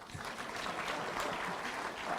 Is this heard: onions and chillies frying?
no